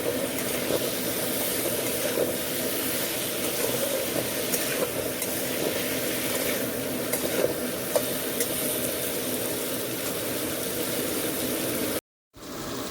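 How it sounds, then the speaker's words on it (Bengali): Stalks and potato pieces fry in a pan for a Bengali rohu fish curry meal, giving a steady, dense sizzle and crackle that runs unbroken and fairly loud, with a brief dropout near the end. "এখন ডাঁটা ভাজার সময় আলুটা দিয়ে দেওয়া হলো"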